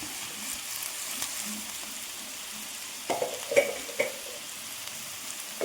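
Chopped ginger, curry leaves and sliced garlic frying in a pan, a steady low sizzle with a few louder stirring scrapes and spatters toward the end, no talking.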